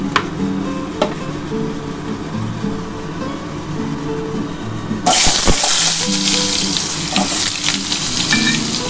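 Potato dropped into hot oil in a pan bursts into a loud, steady sizzle about halfway through, following a quieter stretch of clinking and faint kitchen noise.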